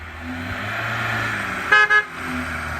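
A car pulls up with a steady engine rumble close by, then two short horn toots sound near the end, with no talk over it.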